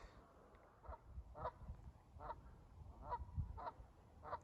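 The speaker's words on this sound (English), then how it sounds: "geese everywhere" A flock of geese along a river honks repeatedly in a steady, uneven chorus, faint and somewhat distant, with low rumbling wind underneath.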